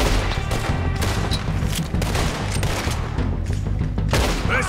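Gunfire in the video game Red Dead Redemption 2, loud bursts of rapid shots and booming blasts firing almost nonstop in a dense, chaotic volley.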